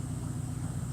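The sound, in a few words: car engine idling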